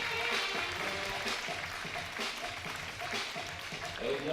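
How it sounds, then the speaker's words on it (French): An audience applauds at a show jumping final after a clear round in the jump-off. Dense, sustained clapping carries under a commentator's voice throughout. "On l'applaudit encore très très fort"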